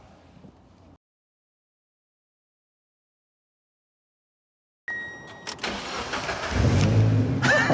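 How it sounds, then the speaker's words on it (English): After a brief low hum and several seconds of silence, a car engine cranks over via a Topdon J2000 jump starter, catches and settles into a loud, close, steady idle. "It still started the car."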